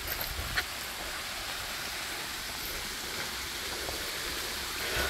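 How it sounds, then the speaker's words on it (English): A waterfall in Germany roars as a steady, close, broadband rush of falling water, continuous and loud throughout with no talk. "Look at this waterfall."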